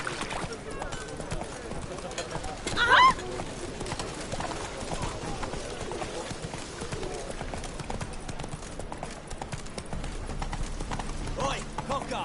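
The horse Roach gallops in The Witcher 3, hooves clip-clopping in a quick steady rhythm throughout, with brief louder sounds and a short voice early on.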